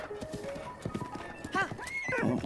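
Rhythmic hoofbeats of a horse clip-clopping along in The Legend of Zelda: Breath of the Wild, with a horse whinnying partway through and a voice speaking faintly underneath.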